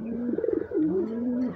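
A pigeon gives a soft, close coo, a short rolling burst followed by a longer drawn-out note, heard alone and fairly quiet.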